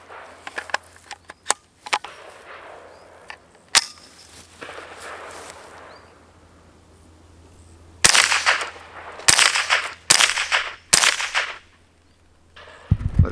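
Gunshots crack through Newbold shoot-through targets on an Alpha stand outdoors, sharp single reports spaced irregularly, some followed by a longer rushing burst, loud and close with no talk.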